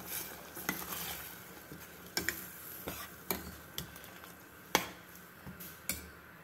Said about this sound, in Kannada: ಒಂದ್ಸಲ ಚೆನ್ನಾಗಿ ಮಿಕ್ಸ್ ಮಾಡ್ಕೊಳ್ಳೋಣ ಇದನ್ನು